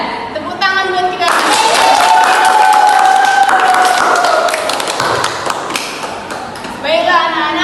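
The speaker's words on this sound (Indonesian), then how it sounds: "Tepuk tangan buat kita." Children clapping in applause for a classroom lesson, a burst of loud steady clapping lasting several seconds with a tone running under it, bracketed by brief speech.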